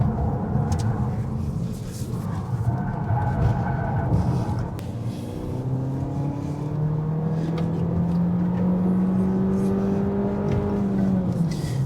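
A Peugeot 308 drives on a track in electric mode, a low hum and tyre rumble rising into a smooth whirring tone that climbs and then falls away as it brakes, steady and moderately loud with no talk.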